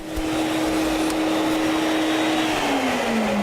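A Sirena vacuum cleaner runs with loud, steady motor roar and a sustained whine whose pitch dips slightly near the end, close and continuous with no talking.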